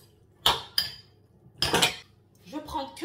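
Seasoning is mixed into food in a bowl with a utensil: a few sharp clinks and scrapes of metal against the dish, separated by short pauses, close and fairly quiet.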